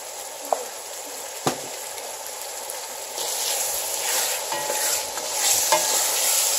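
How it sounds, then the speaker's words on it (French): Beans in sauce stir and fry in a pot for Haitian rice, with a steady sizzle, a few sharp spoon scrapes and knocks, and the frying growing livelier toward the end. "je vais continuer à tourner pour essayer de frire un peu les haricots"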